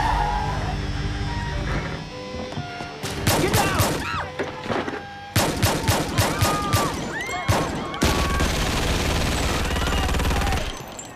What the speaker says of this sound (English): Those were warning shots.